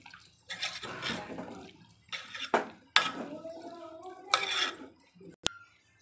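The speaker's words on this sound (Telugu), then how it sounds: "టమాటా ముక్కలు వేసుకుందాం. మొత్తం కలిసేలాగా కలుపుకుందాం." Onions and tomato pieces stirred together in a pan, with repeated scraping and clanking bursts of a spoon against metal, one sharp clink near the end, and a voice talking in between.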